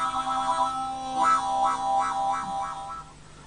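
A harmonica holding a sustained note while the right hand opens and closes over it, producing a rhythmic wah-wah pulsing, four or five swells in a row, close and alone without talk.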